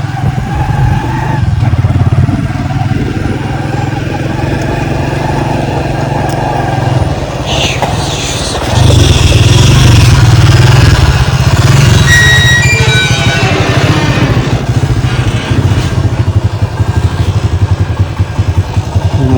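A motorcycle engine idles with a low rumble, then revs louder partway through, with clattering and brief voices around it.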